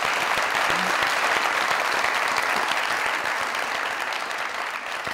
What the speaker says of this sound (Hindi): उसके लिए ताली।